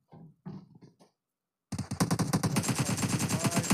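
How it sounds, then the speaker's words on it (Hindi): Automatic gunfire in the video game PUBG rattles in a fast, loud burst of repeated shots, after a few faint short sounds and a brief silence. "बहुत ही प्यारा कवर फायर था यहाँ पे नियो का"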